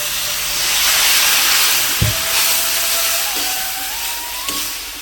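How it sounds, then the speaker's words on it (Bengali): A splash of water hits spices frying in a pan, raising a loud, steady steam hiss that surges and then slowly settles, with no voices. "আর এতে দিয়ে দেবো হালকা করে একটু জল, যাতে পুড়িয়ে নেওয়া যায়"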